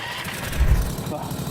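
A vehicle engine cranks after a push-button start and settles into a low idle, brief and close, with a person talking over it.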